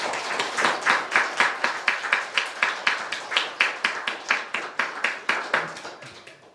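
A church congregation claps together in a steady, rhythmic beat, each clap sharp and evenly spaced, moderately loud and sustained for several seconds, with the pace slowing slightly toward the end.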